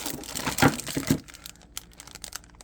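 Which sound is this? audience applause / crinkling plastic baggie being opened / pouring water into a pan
crinkling plastic baggie being opened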